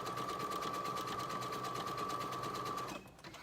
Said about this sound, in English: And then for the serger, I'm using a 4-thread serger.